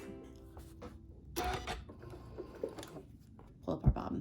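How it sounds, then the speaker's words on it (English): A sewing machine runs in quick short bursts of free-motion quilting stitches, with mechanical clicks and whirs between pauses, fairly close and moderately loud. "So I'm just going to do a couple little quick stitches here."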